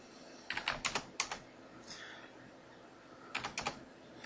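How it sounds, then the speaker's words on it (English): Someone types on a computer keyboard in two short bursts of quick, close clicks, with a quiet pause between them and no talking. "when I'm typing the data in, it doesn't care"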